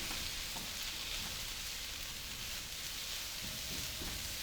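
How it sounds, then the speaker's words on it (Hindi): Chicken and spices fry on a low flame with a soft, even sizzle that holds steady throughout, faint and close with no talking. "स्पाइसेस को हम मिक्स कर लेंगे चिकन के साथ और इसको हम लो फ्लेम पर 1 मिनट तक पकाएंगे"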